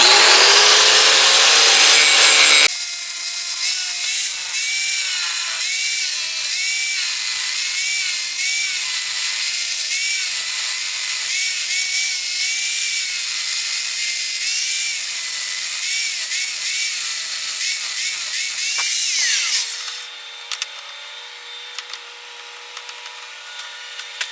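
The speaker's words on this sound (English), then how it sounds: "we're just going to grind some grooves and channels and just kind of make a cool pattern" An angle grinder cuts grooves and channels into a forged railroad spike knife blade, a steady high-pitched metallic grinding whine that runs loud and continuous for most of the clip before stopping and leaving a faint hum.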